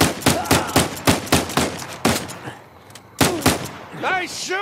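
Rapid gunfire in the video game Uncharted 4, a rhythmic string of loud, close shots that pauses briefly, then resumes, with a voice speaking near the end.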